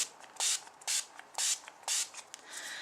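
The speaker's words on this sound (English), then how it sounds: "I would apply my Scandinavia setting spray" Four quick, evenly spaced hissing sprays from a mist bottle, close and clear, followed by a faint softer hiss.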